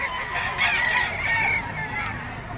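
Gamecock roosters at a crowded pet market crow and cluck loudly and continuously close by, several birds overlapping in a dense chorus.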